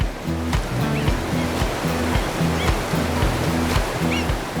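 A river waterfall where salmon swim upstream to spawn sends up a continuous, full rush of water. Underneath it, a rhythmic tonal pulse repeats steadily, like soft background music.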